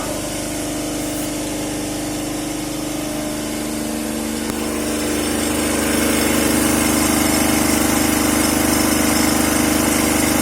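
A motor drives a three-phase alternator at about 1500 RPM in an electrical machines lab, a loud continuous engine-like hum and whine that holds steady and grows slightly louder partway through, with no talking.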